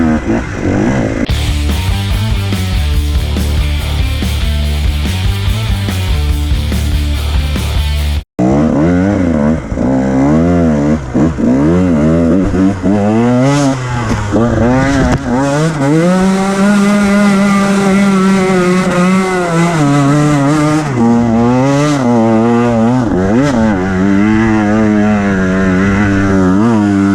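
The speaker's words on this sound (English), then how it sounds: "Today I'm on my 2019 KTM 150 XCW. It's my first ride on it. It's a carburetor bike" A carbureted 2019 KTM 150 XC-W dirt bike, loud and close, its engine buzzing at high revs with repeated rising and falling throttle swells throughout, a brief cut partway through, and no voices.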